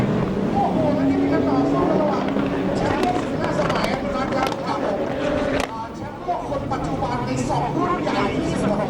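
Jet skis race in the Pro Runabout Open at the 2011 Jet Ski World Cup, engines droning steadily with surging revs and splashes, while a commentator talks over the race throughout.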